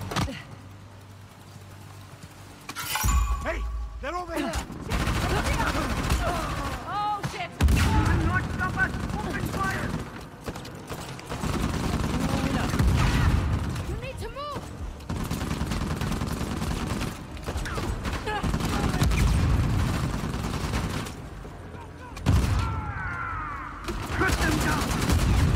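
Sustained heavy weapon fire in Uncharted: The Lost Legacy, long rattling bursts of loud gunfire with brief pauses, mixed with game voices shouting.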